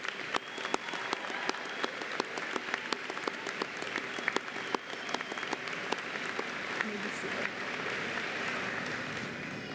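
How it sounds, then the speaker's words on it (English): Audience applause at a nursing program pinning ceremony, dense continuous clapping from a large seated crowd in a hall, steady and fairly loud throughout. "Let's give them a round of applause."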